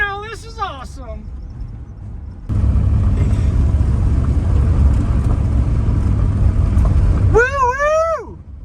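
A restored 1976 Plymouth Volare, started after sitting abandoned for 47 years, drives down the road with a loud, steady engine rumble and road noise lasting several seconds, with an excited voice before and after.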